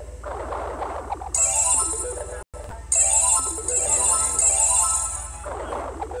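A phone ringtone plays loudly and close, a repeating electronic melody with a short break in the middle before it resumes.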